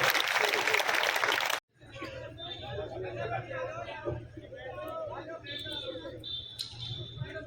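An audience at a comedy poetry gathering (hasya kavi sammelan) in Chomu, Jaipur bursts into loud applause for about a second and a half, then it cuts off abruptly to voices talking over low crowd murmur.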